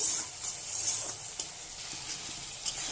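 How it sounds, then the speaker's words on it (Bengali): Okra, potato and fish curry masala being sautéed in a pan, giving a steady close sizzle with occasional scraping stirs and soft clinks throughout. "আর একটু ভালোভাবে কষিয়ে নেব।"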